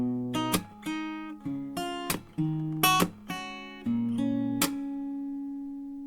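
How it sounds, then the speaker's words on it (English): An acoustic guitar picks out the melody of a song, single plucked notes ringing over soft bass notes, steady and close, fading out on a final sustained note. "Now you can also play the melody,"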